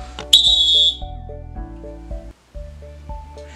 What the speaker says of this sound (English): that might be a whistle